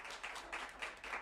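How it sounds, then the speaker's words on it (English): Short burst of scattered applause at a governing board meeting, moderate and somewhat distant, with several swelling waves of clapping. "We'll give him a round of applause"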